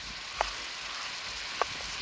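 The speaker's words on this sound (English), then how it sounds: "It's sizzling already." A steady, hissing sizzle of food in a hot pan over a campfire, with two sharp little pops standing out above the crackle.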